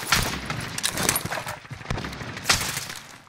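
Close, loud bursts of gunfire and explosive rocket blasts in a fast-paced shooter video game, several sharp volleys clustered over a few seconds.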